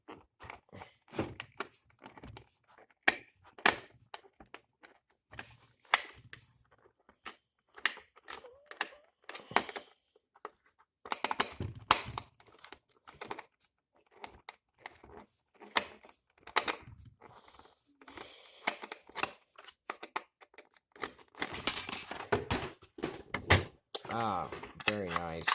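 Plastic packaging of a toy Nissan GT-R model is unscrewed by hand, giving scattered small clicks, ticks and rustles in irregular bursts, with a person talking at times in between.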